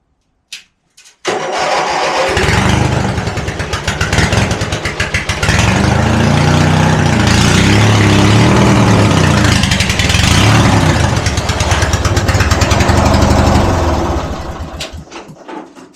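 A small engine sputters to life, then runs steadily at a loud, close idle with a rough, throbbing rumble before cutting off near the end.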